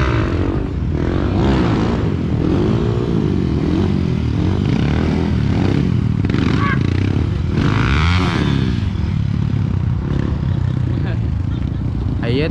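Kawasaki KSR motorcycle engine while riding, a loud continuous rumble with shifting revs and wind noise, with people talking over it throughout.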